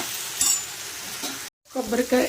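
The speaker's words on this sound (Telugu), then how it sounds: "తాలింపు పెట్టేశాను అనమాట పచ్చడికి." Oil sizzles and crackles steadily in a pan as spices are tempered for a coconut and ridge gourd peel chutney, while a utensil stirs, with a brief cut and a voice murmuring near the end.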